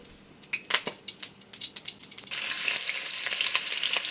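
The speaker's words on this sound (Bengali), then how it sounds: "কড়াই তেল গরম হয়ে গেছে এবার সব দিয়ে দিয়েছি" Sharp crackles and pops are followed by a loud, continuous sizzle as large prawns hit hot oil in a wok and keep frying steadily.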